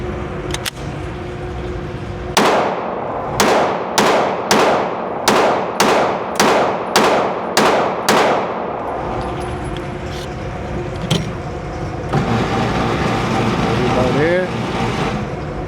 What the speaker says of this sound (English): First time shooting it.